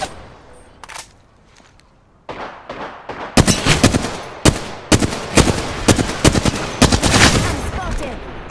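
Gunfire in the Apex Legends video game: after a quiet start, loud bursts of rapid automatic shots crack out in repeated volleys.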